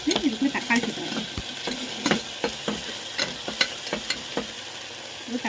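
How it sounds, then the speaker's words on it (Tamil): Ginger garlic paste sautéing with tomato in a pan, a soft sizzle beneath frequent rhythmic scrapes and taps of a spoon stirring against the pan. "சேர்த்து லைட்டாக வதக்கிட்டு இதுக்குள்ள தக்காளி சேர்த்துக்கலாம்."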